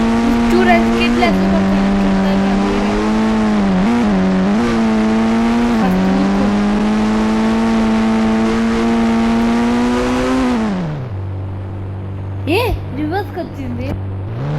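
An ATV engine in the mobile game Indian Bike Driving 3D drones and revs steadily, rising and dipping in pitch, then drops to a lower idle hum with a few brief rising whines.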